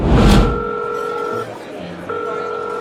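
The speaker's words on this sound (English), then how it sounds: "Canny's best friend, Noreen, was calling her cell phone." A cell phone call being placed: a short burst at the start, then a steady electronic ringback tone that pauses briefly and resumes, clear and close.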